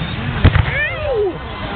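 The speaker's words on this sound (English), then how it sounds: "Someone shot a flare." A flare fires into the night sky during an outdoor fireworks display, giving a short, loud pop and burst followed by a rising whistling streak, with voices talking around it.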